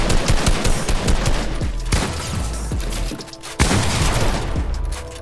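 Rapid bursts of gunfire in the video game Fortnite, loud dense volleys of shots with booming impacts, a brief lull, then more sustained firing.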